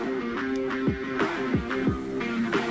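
Quiet music plays in the background, with a steady beat of low thumps and a sustained tonal layer. No one speaks.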